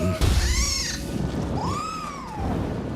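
A cat meows twice, the first a short rising cry and the second a longer drawn-out wail, close and clear over low rumbling background noise.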